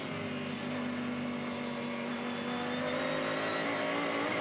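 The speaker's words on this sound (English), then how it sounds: "I just love the noise of this car." An endurance race car at Sydney Motorsport Park holds a loud, steady engine note as it drives on track. The roar is close and continuous with no talk over it.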